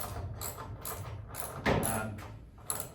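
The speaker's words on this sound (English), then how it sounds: "Ratchet it in, should I say." Socket ratchet tightening a replacement bolt into a bracket on a barn-find Volkswagen bay van: close, rapid metallic clicking in short bursts with a louder clunk partway through and no talk.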